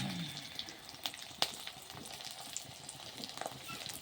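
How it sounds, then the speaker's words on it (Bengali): An egg fries in a pan in a home kitchen, giving a soft, close sizzle with scattered small pops and crackles. "ডিমটা ভাজা হয়ে গেছে, এখন নামিয়ে নিচ্ছি"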